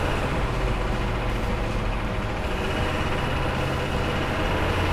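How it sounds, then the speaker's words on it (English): Street-legal Humvee military vehicle with no interior, driving around town at about 40 mph, gives a steady, loud, low engine drone and road roar with no talk. "driving around town in a military vehicle that sounds like this"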